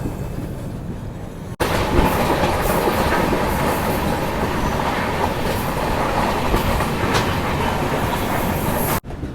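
Mithila Express running between Raxaul and Sagauli in Bihar behind a WAP 5 electric locomotive, a steady loud rumble and clatter of wheels on track that lasts throughout, with no talk.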